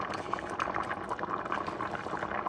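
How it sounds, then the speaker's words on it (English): A pot of rice bubbles at a steady boil, dense popping and gurgling continuing without pause, close by and with no talking. "Now it's boiling"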